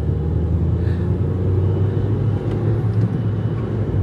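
Steady engine rumble and road noise from a manual-transmission car being driven, loud and continuous throughout, with no voices.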